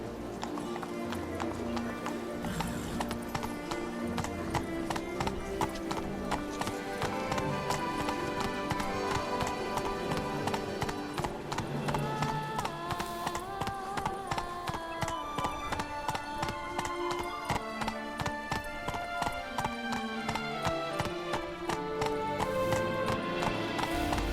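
Galloping hooves of Roach, the horse in The Witcher 3: Wild Hunt, a steady fast clip-clop rhythm over a musical score that continues throughout, with no talk.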